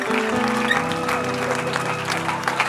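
A church congregation in Evry claps and cheers in praise, a dense continuous patter of hands with voices calling out, ending in a sharper burst.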